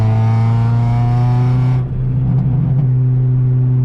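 An Acura RSX engine drones loudly at high revs, then the pitch eases off with some crackling pops from the exhaust, close to the listener.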